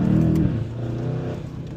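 A Mercedes E63s AMG with a Stage 2 tune, shifted in manual mode, gives a short, loud engine rev that swells and then settles into a steady deep drone heard from inside the car.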